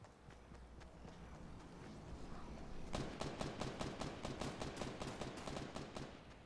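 Rapid bursts of gunfire in a Spanish-language online battle royale shooter, starting halfway through as a dense string of sharp repeated shots, loud and close, over steady game ambience and faint running.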